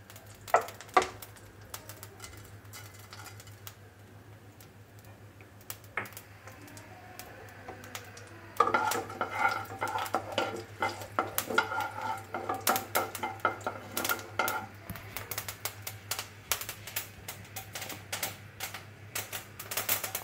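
Black mustard seeds sputter in hot ghee for a cabbage salad, with quiet scattered pops that turn into a busy, crackling patter of sharp ticks partway through, over a low steady hum.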